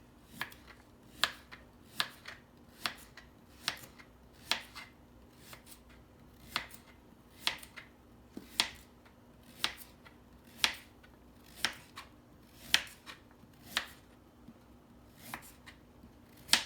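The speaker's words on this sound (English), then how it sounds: "I am going to slice my carrots. I took the end off the one and now I'm just doing small slices." A knife slices carrots on a cutting board, trimming off the end and then cutting small rounds, giving a steady run of crisp, evenly spaced chops close by with no talking.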